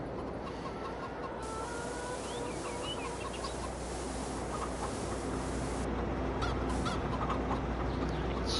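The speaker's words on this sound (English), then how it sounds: "So yes, we have got chickens." Chickens in a coop in the farming video game Farming Simulator 22, a steady mix of clucking and squawks over a constant low hum, moderately near and fairly quiet, with no talk.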